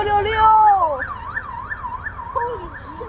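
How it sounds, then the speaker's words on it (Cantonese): A police car siren wails past a KMB double-decker bus on the Kowloon Station to Ma Wan route, heard from the upper deck. It rises and falls in steady, fairly loud cycles over engine rumble, with faint voices nearby. "警車嚟啦，警車嚟"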